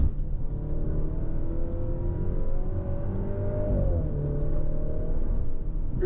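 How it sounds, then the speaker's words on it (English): Maserati Grecale SUV engine on winding Tuscan roads, a steady sustained drone that rises and dips slightly as revs change, heard from inside the cabin over road rumble, with no talking. "It is a good singing engine and we are on some very rewarding roads."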